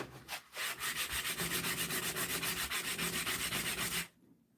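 Steady, continuous rasping of sandpaper on a handmade knife, running as one loud, unbroken stroke for about four seconds after a brief start, then stopping abruptly.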